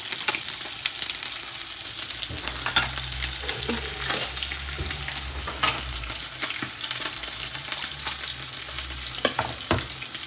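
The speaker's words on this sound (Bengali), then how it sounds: "এই যে ডালটা বাগারের জন্য দিয়ে দিচ্ছি এখানে শুকনো মরিচ আর হচ্ছে তেজপাতা আর পাঁচফোড়ন" Dal is tempered with dried chili, bay leaf and panch phoron in hot oil, giving a steady crackling sizzle with stirring scrapes and occasional sharp pops, close and continuous, with no talking.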